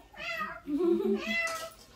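A cat meows twice in quick succession, close and fairly loud, the calls rising and falling with a short gap between them.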